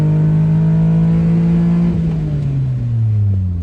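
A Honda Beat fitted with a big brake kit, its small engine loud and close with a steady high drone that shifts pitch midway and then falls as the car slows.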